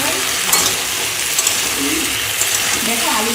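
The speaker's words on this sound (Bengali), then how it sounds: "চিংড়ি বেশি ভাজলে না কেমন একটা হয়ে যায়" Shrimp fry in a hot pan with a constant, dense sizzle and occasional crackles and stirring scrapes, loud and close throughout.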